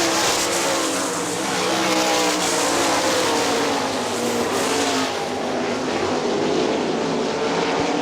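Sprint cars roaring around the dirt oval at Hartford Speedway Park during a Great Lakes Outlaw Sprint Series race, a dense continuous engine drone with overlapping cars swelling and fading, loud throughout the late laps.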